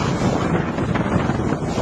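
Strong typhoon wind roars and buffets the microphone in a continuous, loud rush with no letup.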